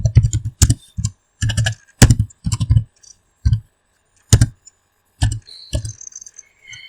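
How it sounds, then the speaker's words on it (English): Clicky keys on a computer keyboard tapped in short bursts, close and crisp with brief pauses between groups of strokes, no voices. "And then I'll type something, hello world."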